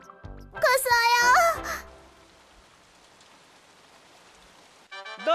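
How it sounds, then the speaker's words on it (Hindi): Rain falls in a cartoon as an even, soft hiss that runs for several seconds, framed by a high, childlike cartoon voice speaking before and after. "हाँ, ये बारिश क्यों हो रही है?"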